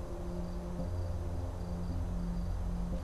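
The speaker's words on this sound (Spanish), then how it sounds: "Hay sonidos de grillos y no sé si es acá o en el video." Crickets chirping in a forest setting, a faint, steady trill with repeated pulsing notes running continuously under a low background hum, with no voices.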